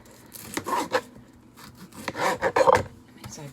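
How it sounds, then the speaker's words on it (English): A knife cuts firm leftover baked potatoes into small pieces, giving close, intermittent scraping and chopping strokes in a few uneven bursts with short pauses between. "leftover potatoes that I'm just cutting up into small pieces"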